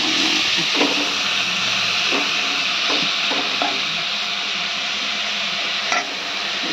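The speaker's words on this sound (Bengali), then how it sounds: "এখানে একটু চিংড়ি মাছ ভাজছে" Shrimp fry in a pan, a constant loud sizzle and hiss with a few soft clicks of stirring scattered through, close and steady and with no talk over it.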